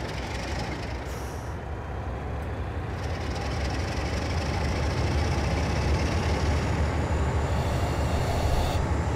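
A train in Train Simulator 2019 starts up and accelerates with a loud, steady roar and a brief hiss near the start. The noise builds slightly and stays constant, with no talking.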